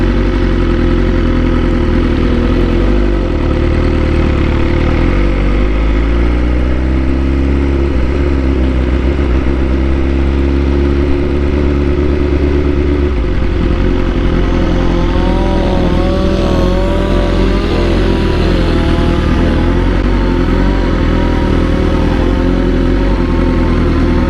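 A motorcycle engine runs loud and close throughout, its pitch climbing and falling as the bike accelerates and shifts through the gears, with a steady mechanical roar and no talking.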